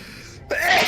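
A single sharp sneeze bursts out partway through, loud and close, after a short quiet build-up, amid a casual 1v1 StarCraft practice session among friends.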